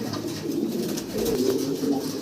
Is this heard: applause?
no